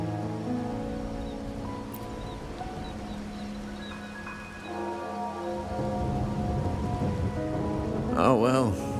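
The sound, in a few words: rain in Wuthering Waves video game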